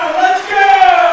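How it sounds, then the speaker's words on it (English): Fight night crowd at a Warriors Way mixed martial arts event roars as both fighters get back to their feet, a loud sustained wall of cheering and shouting voices, brief and close, with a commentator's voice mixed in. "The crowd absolutely loving this"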